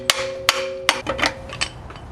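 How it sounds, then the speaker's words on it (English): Three sharp metallic hammer blows ring out at steady intervals on a worn Subaru FB25 engine part, followed by a few lighter taps and clinks, close and loud. "Don't do anything you see this hammer do at home"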